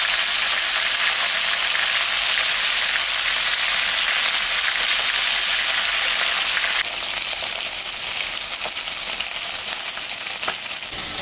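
A fish head frying in hot oil for a Bengali curry gives a loud, steady, crackling sizzle that runs unbroken throughout, easing slightly in the second half, with no voices.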